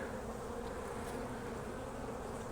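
Honey bees buzzing around an open beehive during an inspection with capped honey exposed, a dense continuous hum of many bees close by, with no talking.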